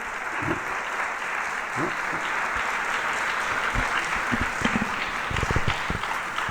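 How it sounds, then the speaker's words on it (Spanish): An audience giving sustained applause at the end of a talk, steady dense clapping throughout with a few louder nearby claps standing out. "no sé si esto ya es el aplauso final"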